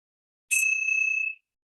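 A single bright strike of a meditation bell, the bells of hope, ringing out with a clear sustained tone that fades after about a second, alone in quiet surroundings.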